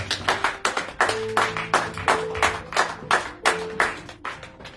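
A church congregation claps in a steady rhythmic beat, loud and close, while faint sustained tones from an organ or keyboard hum beneath the handclaps.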